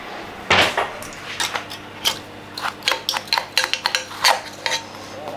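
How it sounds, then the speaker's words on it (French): A spoon clinking among kitchen dishes while preparing a veal stock sauce, a series of sharp metallic taps and rattles, close and irregular, with no talking. "Je vais prendre une cuillère."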